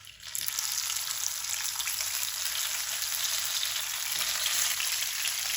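Already-cooked chicken pieces browning in a pan give a continuous, even hiss of frying oil that runs unbroken at moderate loudness, with no voices over it.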